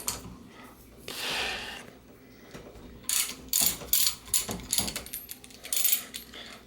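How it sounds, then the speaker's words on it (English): A 22 mm 6-point socket works loose the top caps on a RockShox Quadra 21 suspension fork, giving faint ratcheting clicks followed by a run of sharper metallic clacks and rattles close by. "I have a 22 millimeter 6-point socket, and I'm going to go ahead and just unscrew these."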